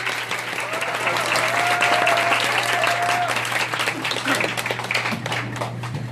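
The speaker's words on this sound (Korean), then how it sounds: "박수 한번 부탁드릴게요." Concert audience at a fan concert claps loudly and steadily for about six seconds, a sustained crowd roar over a low hum, with a faint voice or cheer rising briefly early on.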